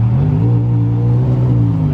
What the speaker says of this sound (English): apparently this has an aftermarket exhaust on it